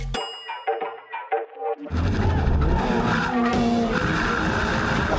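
A 2024 Subaru BRZ tS screams up to redline on a track, a loud sustained engine roar with tire skidding, after a few sharp clanging dings at the start.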